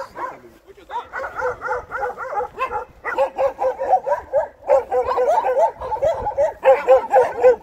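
Several dogs bark and yip close by in rapid, overlapping bursts that continue almost without pause, in Sabaduri, Georgia.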